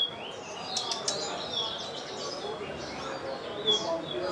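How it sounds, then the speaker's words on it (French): Caged birds hanging in a Macau neighbourhood street chirp and tweet in short, bright bursts over a soft bed of street ambience, with brief flutters scattered throughout. "des cages à oiseaux suspendus composent la bande sonore du quartier"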